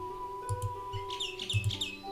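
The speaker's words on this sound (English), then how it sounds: "little birds in the tree" In the video game BeetleQuest, small birds chirp and tweet in short, bright bursts over a quiet, steady hum, with no voices.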